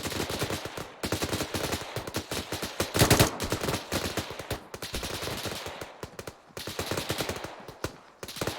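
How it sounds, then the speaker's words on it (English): L85 rifle fire during a military training drill, dense rapid bursts of gunshots from several shooters overlapping in quick rhythm, loud and close with only brief pauses between volleys. "obviously returning fire now"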